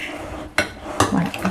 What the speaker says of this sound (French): je vais aller prendre une cuillère de beurre et c'est tout, et je mélange